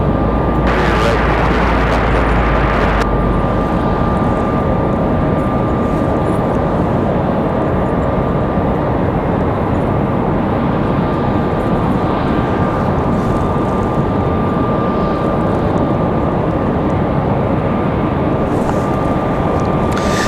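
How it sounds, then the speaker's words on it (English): A Southwest Boeing 737 MAX 8 arriving from Dallas at Raleigh Durham airport roars loudly and continuously, a dense, sustained engine rumble filling the whole stretch, with a brief higher noise near the start. "next arrival is going to be Southwest 2285 coming in from Dallas. 737 MAX 8."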